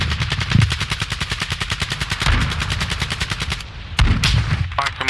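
Rapid automatic gunfire in Call of Duty Warzone 2 Resurgence quads, a loud sustained burst of evenly spaced shots for several seconds, then a pause and a couple of heavier blasts.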